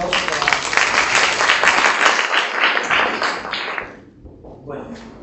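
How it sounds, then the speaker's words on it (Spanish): Seminar audience applauding, a steady, dense wash of many hands clapping for about four seconds before tapering off into quieter scattered sounds. "Gracias, un aplauso"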